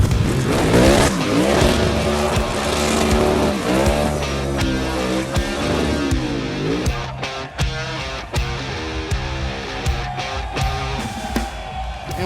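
A race car with massive horsepower drifts, its engine roaring loud and steady under squealing, skidding tires.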